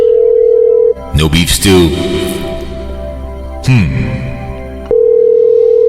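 A steady telephone dial tone hums while a call is placed to a catering line, cut off by a stretch of speaking voices and then resuming alone at the end.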